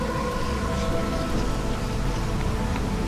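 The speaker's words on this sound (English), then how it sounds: "Oh, we also have a rotten rain happening." Rotten rain falls in the strategy game Against the Storm, a steady, even hiss of dense rainfall with faint low rumbles underneath, no voices.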